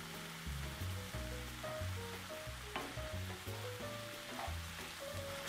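Salted minced meat for bolognese fries in a pan with a steady close crackling sizzle, while faint tonal background music plays underneath and no one speaks.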